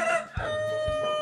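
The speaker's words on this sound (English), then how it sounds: "So this rooster's up there." A rooster crowing from up high along a rural stretch of the Portuguese Camino between Rubiães and Tui, one short, fairly faint crow heard at a distance.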